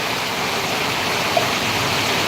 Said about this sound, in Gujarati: જબરજસ્ત વરસાદ ચાલી ચાલુ છે